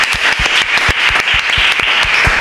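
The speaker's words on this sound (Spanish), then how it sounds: "Un aplauso de nuevo a Marbella" Close, loud audience applause at a public event, a dense wash of clapping with distinct hand claps in a steady rhythm, no voices heard.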